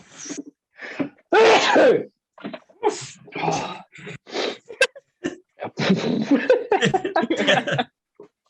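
A single sharp sneeze bursts out amid a person talking in short phrases, close and loud.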